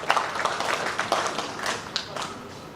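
Applause rises from the crowd at a fifth anniversary celebration of a community union in Ireland, a dense patter of many hands clapping steadily from a moderate distance, with scattered sharper claps standing out.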